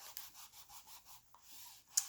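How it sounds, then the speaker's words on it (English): Baby wipe rubbing at crayon marks on a vintage book cover, soft, quiet, rhythmic back-and-forth strokes heard up close, with a brief tap near the end. "I just wanted to really see if I could get any of this little crayon mark off there with the baby wipe"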